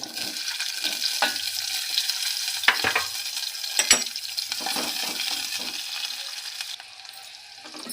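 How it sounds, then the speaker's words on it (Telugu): Chopped onion fries in oil in a pan, a constant close sizzle broken by scraping and clinking stirs. "ఇప్పుడు ఇదే డబ్రాలో కొంచెం నూనె వేసుకొని నేను ముందుగా కట్ చేసిన ఉల్లిపాయ అయితే వేయించుకున్నా."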